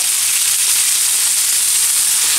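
Scallops and large pink prawns sizzle steadily in a hot pan, a continuous loud bright frying hiss with no pauses and no voices.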